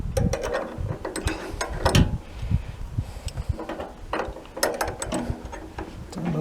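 A ratchet wrench with a 10mm socket undoes the fuel tank through bolt on a Honda CB1300 motorcycle. The rapid clicking comes close up and continuous, in uneven bursts of ratcheting strokes.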